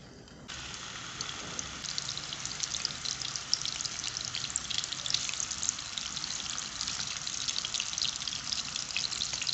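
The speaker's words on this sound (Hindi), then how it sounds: "कबाब फ्राई करने के लिए थोड़ा सा तेल डालूंगी और मैं इसके अंदर कबाब डाल दूंगी" Chicken gola kebabs frying in a little oil in a pan, a steady dense sizzle and crackle that starts abruptly and continues evenly throughout.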